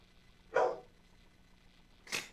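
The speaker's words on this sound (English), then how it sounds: "Something's got the puppy dogs all stirred up." A dog barks twice indoors, a single sharp bark followed by a second one about a second and a half later, moderately close with quiet room tone between.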